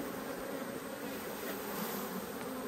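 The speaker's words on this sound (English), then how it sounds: "I've just managed to leave a whole heap of bees down the side here." A heap of bees crowds the side of a green hive, keeping up a constant, close, even buzz with no voices over it.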